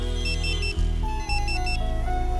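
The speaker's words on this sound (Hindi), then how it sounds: "भाई, आपका फोन बज रहा है।" A phone ringing with an electronic tune, a melodic ringtone repeating steadily and fairly loud for a couple of seconds.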